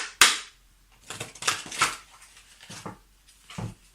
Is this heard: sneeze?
no